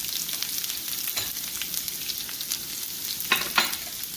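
Mustard seeds, fenugreek, chopped shallots, dried red chillies and curry leaves frying in hot oil for a curd curry, a steady close crackling sizzle with sharper pops and stirring scrapes near the end, no voices.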